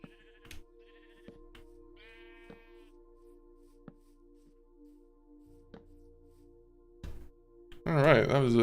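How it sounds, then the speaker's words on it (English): A sheep bleats in Minecraft, a few short wavering calls standing out against quiet game ambience and scattered clicks, with a voice briefly speaking at the end. "that was a nice little hidden sheep"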